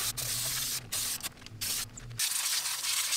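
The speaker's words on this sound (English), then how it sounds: "I'm just gonna use brake parts cleaner and spray it down with the hose" Brake parts cleaner is sprayed from a can onto drum brake parts, a close, broadband hiss that runs for about two seconds, breaks off briefly and then continues more steadily.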